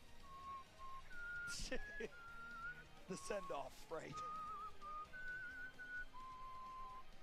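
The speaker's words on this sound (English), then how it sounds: "I'm going to whistle one last time." Someone whistles a few sustained, melodic tones during a lively fighting-game tournament watch party, while excited voices talk over the whistling.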